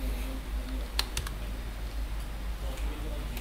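Typing on a computer keyboard while entering a website name, a short burst of light, crisp key clicks over a steady low hum, close and fairly quiet.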